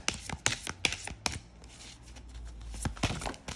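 Oracle rune cards shuffled by hand, a quick run of crisp papery taps and flicks close up, with a brief quieter pause in the middle before the card noises resume.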